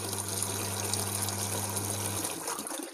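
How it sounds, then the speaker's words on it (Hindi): Water from a borewell pump gushes steadily into a tank, a loud continuous rushing with a low motor hum that cuts off near the end as an automatic sensor switch shuts the pump off. "अब यहाँ पे जो हमारा टैंक है, इस टैंक में हम पानी फिल करना स्टार्ट करें।"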